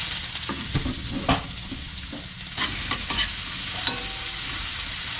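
Onion and ginger sauté in hot oil for tilapia escabeche, giving a steady loud sizzle with repeated scraping stirs of a utensil in the pan, close up and continuous.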